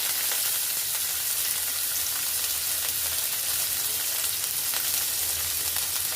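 Onion and capsicum frying on a street-style stove, a dense steady hiss of sizzling oil with faint stirring scrapes, close and constant throughout, with no speech.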